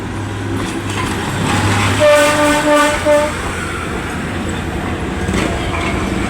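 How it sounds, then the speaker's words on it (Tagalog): A train rumbles past close by on the railway at Lutukan, loud and continuous, with a horn blast sounding briefly in the middle over the steady roar of the cars. "Ayan na yung train."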